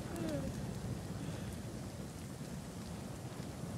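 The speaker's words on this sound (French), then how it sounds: "Il pleut, on peut pas aller dehors." Steady rain pours down continuously in the video game Nightingale, a dense, even hiss with low rumbling tones underneath and a faint voice briefly in the background.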